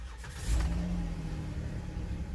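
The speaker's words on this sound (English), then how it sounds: "it's time to start it up and get this thing on the road" A lifted 2010 Jeep Wrangler's engine starts up, a quick crank catching into a low rumbling idle that swells briefly then settles into a steady throaty hum close by.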